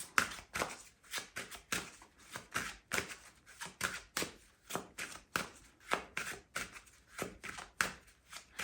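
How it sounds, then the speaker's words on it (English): Oracle cards being shuffled by hand in a quiet room, a fast run of soft papery riffles and slaps repeating steadily throughout, close and fairly quiet with no talking. "let me pick some oracle cards for Leo."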